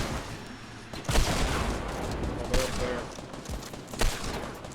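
Video game gunfire in Fortnite, a few sharp shot bursts near 1.1, 2.6 and 4 seconds over a dense, noisy game soundscape.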